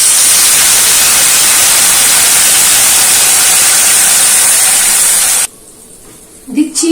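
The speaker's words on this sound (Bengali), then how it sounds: "ভেজিটেবলসগুলো ভেজে তাতে দিয়ে দিচ্ছি জল" Water poured onto fried vegetables in a hot pan bursts into a loud, steady sizzling hiss that continues for several seconds, then cuts out abruptly, leaving quiet with faint clatter.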